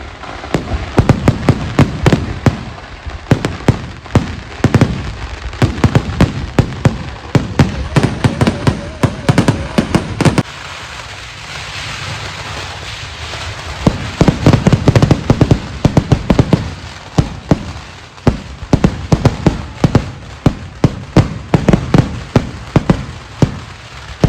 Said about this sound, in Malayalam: നല്ല കിടിക്കാച്ച വെടിക്കെട്ട് ആയതുകൊണ്ട് നൈസായിരുന്നു